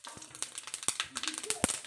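Mustard seeds crackle and sizzle in hot oil in a home kitchen, with quick sharp pops over a faint frying hiss and bits of background chatter.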